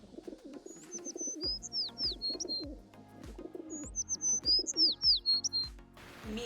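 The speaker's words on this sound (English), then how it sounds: "Cafe started construction on her lovely aviary with so many birds" Birds in a modded aviary in a video game, repeated coos and chirping calls in two matching phrases, clear and fairly close, with soft game sounds underneath and no talking.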